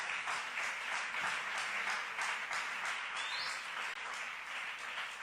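A congregation applauds during a church sermon, a dense, steady wash of many hands clapping that fills the whole stretch without letting up, with no voices over it.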